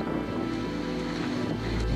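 Strong monsoon wind gusting at Amboli Ghat in the hills on the Maharashtra–Goa border, a steady loud roar with deep low rumble buffeting the microphone throughout, no voices.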